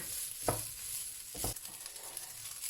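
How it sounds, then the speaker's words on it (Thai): Sausage stir-fries in a pan with a steady quiet sizzle, broken by two distinct scraping strokes of a utensil about a second apart. "ผัดไปเรื่อยๆนะคะ"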